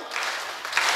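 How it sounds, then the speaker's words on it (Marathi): A crowd at a devotional kirtan gathering breaks into brief, dense, loud clapping that fills the whole moment. "एक टाळी वाजली पाहिजे."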